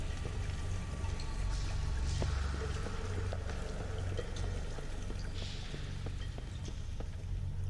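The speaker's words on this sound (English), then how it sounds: "Is the water level rising?" Water pours steadily in an SCP horror video game as the water level rises, a continuous rushing fill with occasional faint clicks, alone without talk.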